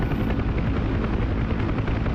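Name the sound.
UH-1 Huey helicopter in DCS flight simulator video game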